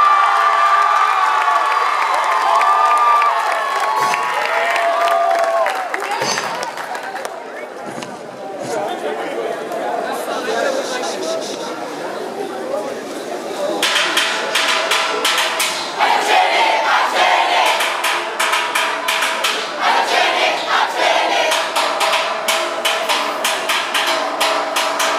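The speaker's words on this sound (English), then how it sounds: "Give them a round of applause." A schoolyard crowd at a performance by the St Mary's College and St Joseph's Convent steel orchestra claps and cheers, with shouts and chatter mixed in; the sharp clapping grows denser and louder in the second half.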